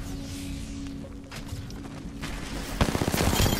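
Gunfire in the Apex Legends video game, a tight rapid burst of automatic shots erupting near the end after quieter game noise and footsteps.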